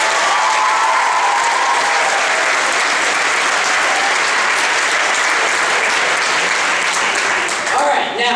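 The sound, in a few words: audience applause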